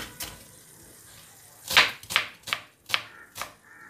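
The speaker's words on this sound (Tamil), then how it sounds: "1 சின்ன சைஸ் வெங்காயமும் எடுத்து நல்லா நறுக்கி" Onions are chopped with a knife for a rice cooker biryani, producing sharp, separate cuts on a board, one early and then a quicker run of five in the second half, close and fairly quiet.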